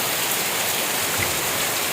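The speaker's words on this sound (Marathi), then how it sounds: "पाऊस बघा जो मगाशी मी येले आणि जो चालू झालो आणि अजून थांबाक नाही अजिबात" Heavy rain pours down as a loud, steady, dense roar with no breaks, close by and without voices.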